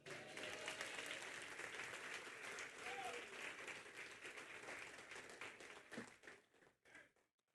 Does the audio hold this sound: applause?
yes